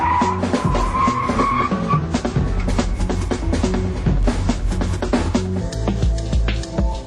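Tires squeal and skid repeatedly as a sports sedan brakes hard, with engine noise and gritty scraping bursts throughout.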